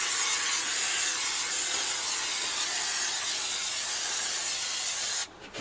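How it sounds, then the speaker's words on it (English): Trim Flex adhesive sprayed from a can onto a panel inside a camper van, a loud, continuous close hiss lasting several seconds before it cuts off abruptly near the end. "you want to spray a bit on where you want it to go"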